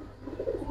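A pigeon pair cooing softly nearby, a brief low murmuring coo rising and falling over a faint background hum, with no talking.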